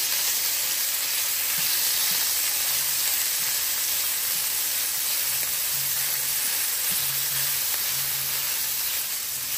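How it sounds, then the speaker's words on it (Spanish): Chorizo crumbled in a pan sizzles and fries steadily while it browns for potato tacos, a dense continuous hiss with occasional faint stirring knocks. "lo voy a empezar a despedazar el chorizo para que se empiece a dorar"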